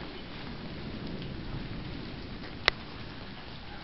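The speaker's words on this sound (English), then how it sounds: "I can hear it thundering really loud" Steady rain pours through a rainstorm with a low rumble of thunder beneath it, and a single sharp click stands out near the end.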